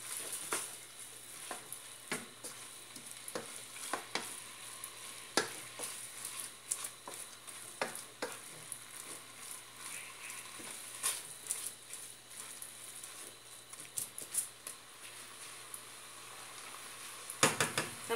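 Ingredients for a chicken and creamed corn fricassee, with chopped tomatoes added, sautéing in a pan: steady faint crackling sizzle with scattered pops and spatula clicks throughout, no talk.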